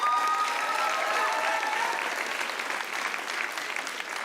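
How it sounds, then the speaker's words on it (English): A crowd at an Indigenous music awards show applauds loudly and steadily. The dense, even wash of clapping fills the whole stretch and fades only slightly near the end. "Give yourselves a round of applause."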